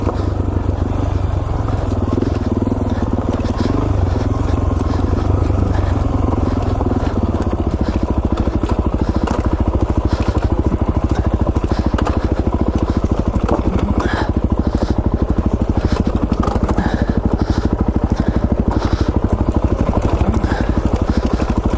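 Suzuki DRZ400S dual sport motorcycle engine chugging steadily as it climbs rocky single track in Idaho, loud and continuous with rock clatter and knocks throughout, close to the rider.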